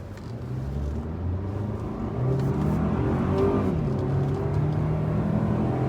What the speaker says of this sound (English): I heard that turbo.